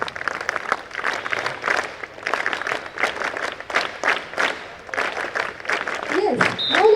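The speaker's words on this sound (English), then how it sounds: "please welcome ma'am with big round of applause" An audience at a school Haritha Haram event applauds to welcome a guest, bursts of dense clapping rising and falling, with a voice talking over it near the end.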